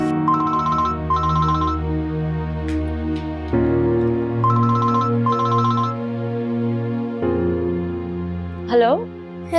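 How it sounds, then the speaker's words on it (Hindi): A telephone rings with a repeating electronic melodic tone, heard alongside background music in a TV drama scene. "फेरी आंटी को फोन करूँ?"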